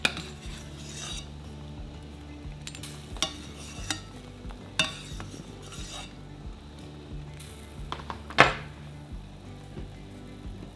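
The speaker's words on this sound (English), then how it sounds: "We just want to simmer" Sourdough discard dumplings simmering in a pot, with a spoon or utensil knocking and stirring against the metal at intervals over a steady low bubbling background, one louder clank near the end; no talking.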